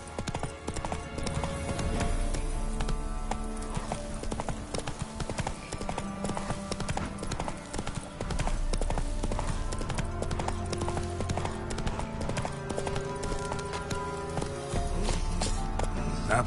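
A horse gallops in the video game The Witcher 3, its hooves clopping rapidly and steadily over a continuous game soundtrack and ambience.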